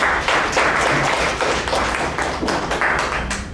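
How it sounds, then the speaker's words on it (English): Steady, close applause from a meeting audience, many hands clapping in a dense patter that fades slightly toward the end, with no talking over it. "Let us put our hands together again to applaud for the wonderful job done by the today"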